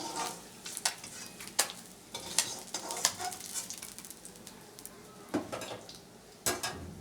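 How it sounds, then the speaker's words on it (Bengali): Small fish fried in oil in a wok give a soft, fairly faint sizzle broken by frequent clattering knocks and scrapes of a spatula against the pan. "মাছগুলো লাল লাল করে ভাজা হয়ে গেছে"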